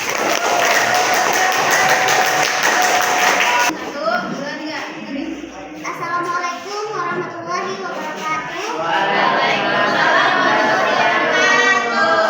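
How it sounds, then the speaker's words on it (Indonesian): A classroom of students gives a burst of applause for group 2 that lasts a few seconds, then children's voices and chatter carry on. "Tepuk tangan untuk kelompok 2."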